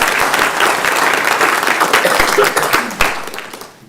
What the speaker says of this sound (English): So everybody please applaud.